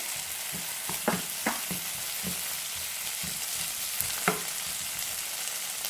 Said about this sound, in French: Maintenant, j'introduis les poivrons. Et je vais aussi laisser revenir un petit peu.